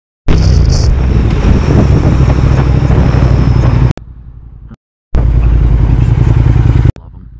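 A 2022 Triumph Speed Twin motorcycle is ridden hard with traction control off. The engine roars loud and close over heavy wind rush, drops out briefly, then surges again.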